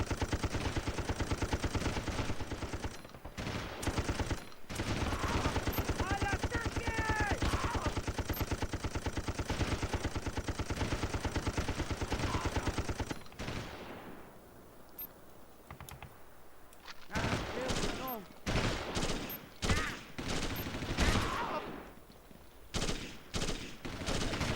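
Rapid bursts of retro video game gunfire fired through a wall, dense clattering volleys for the first half, then sparser, choppier shots with quieter gaps.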